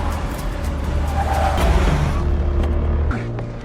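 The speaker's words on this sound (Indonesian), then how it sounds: "Chris terus memacu mobilnya dan menjauh dari para pengawal" A car speeds away during a film chase, with a loud, rough engine roar, tire noise and a brief squeal-like whine before the sound drops off near the end.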